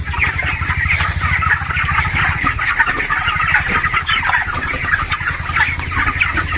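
Chickens clucking inside a poultry farm, a dense overlapping chorus of busy clucks and calls filling the shed continuously, close and fairly loud, over a low steady background hum.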